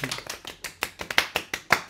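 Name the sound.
hands clapping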